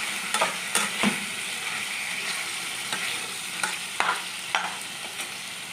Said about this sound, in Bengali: হাই ফ্লেমে রেখে মাংসটাকে নাড়তে হবে।